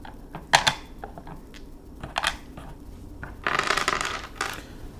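Small plastic cubes are gathered by hand in the Pyramix board game, producing scattered light clicks and clattering rattles, with a denser burst of clinking cubes near the end.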